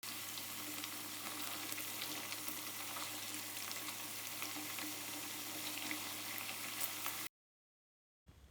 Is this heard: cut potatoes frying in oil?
yes